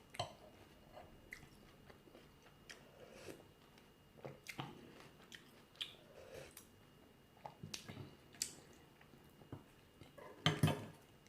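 Someone chews daikon radish pieces from a bowl of noodle soup, with close, quiet crunchy bites and wet squishes arriving in irregular bursts, plus a sharper clatter near the end.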